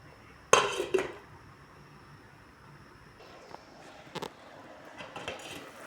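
A metal lid goes onto a pot of tuna soup as it cooks, a sharp clatter and rattle of metal, then a few softer clinks and knocks against a quiet kitchen background.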